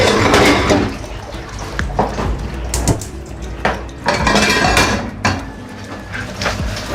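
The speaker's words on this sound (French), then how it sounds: "Je mets ma poêle à feu." A metal frying pan is set on a stovetop burner before prawns are sautéed in it. Loud, clattering metallic knocks and scrapes ring out close by in an irregular series.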